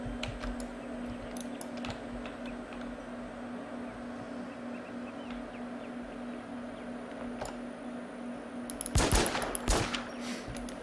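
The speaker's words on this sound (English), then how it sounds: "I had to put him down with the pistol. Two to the brain." A pair of sharp Jericho pistol shots bursts out near the end of a video game firefight, two quick loud cracks over a steady low background hum.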